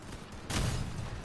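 A cannon shot in the vehicle combat game Crossout, a single sharp blast at about the half-second mark that leaves a rumbling, sustained tail, heard alone without talk.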